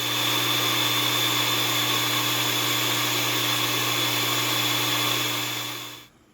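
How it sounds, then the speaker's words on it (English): Blender grinding dried alma peppers into paprika, a loud, steady high-pitched motor whine with a constant hum that runs for several seconds and then cuts off abruptly. "So we've got about half of the almas in the blender right now that you saw in the bowl."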